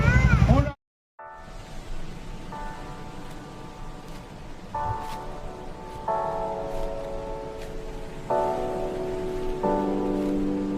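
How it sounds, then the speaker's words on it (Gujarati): Steady rainfall hisses outdoors at moderate volume, a voice briefly talks at the start, and sustained ringing tones rise and fall above the rain. "વરસાદ આવ્યો"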